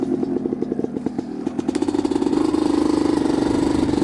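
A 1991 Kawasaki KDX250 off-road motorcycle engine runs nearby with a steady, rapid two-stroke putter that builds in pace and loudness toward the end, as if revving up, with some clattering mixed in.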